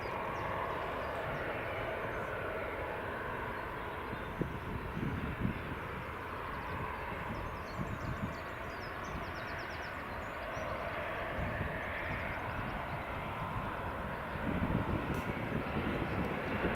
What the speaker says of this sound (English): That's a United 757 pushback.